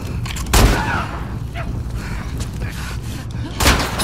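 Gunfire in The Last of Us Part II, two sharp nearby shots a few seconds apart over a low rumbling background.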